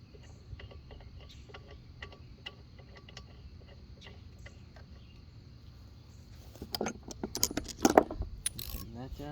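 A spark plug is threaded in and tightened on a Honda HRN 216 mower's GCV 170 engine: faint ticking and small metallic clicks, then louder ratcheting clicks near the end.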